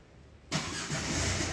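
A 2011 Ford Focus fitted with keyless push-button start fires up, its engine catching abruptly after a quiet moment and settling into a steady, loud idle close by.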